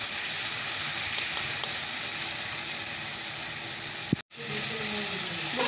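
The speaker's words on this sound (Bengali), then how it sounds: "তো চলো পেঁয়াজটাকে টমেটোটাকে ভালো করে ভেজে নেই, টমেটো একদম মজে যাবে।" Onions and tomatoes fry in a pan over a low gas flame, giving a steady, close sizzling hiss that runs almost unbroken, with one brief dropout near the end.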